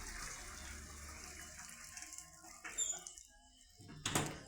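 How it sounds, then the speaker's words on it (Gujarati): Faint water trickles and splashes steadily from a tank after the motor is switched off, with a few louder gushes and small clinks, quiet and close by. "મોટર બંધ કરી દીધું તોય ટાંકામાંથી પાણી એટલું એટલું આવે"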